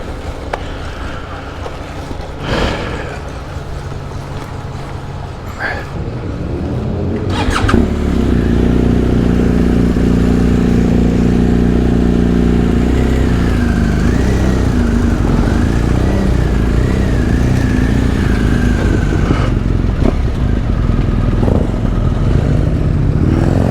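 A motorcycle on an outback road near a roadside cafe idles with some clatter, then revs and pulls away, the engine loud and steady with rising and falling pitch as it rides off.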